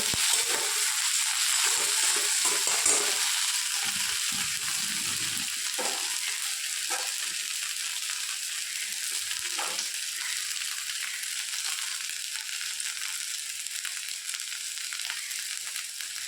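Ginger and cumin paste fries in a pan for a fish-head mung dal, a steady hiss with repeated scraping stirs, loudest early and settling into an even, continuous sizzle.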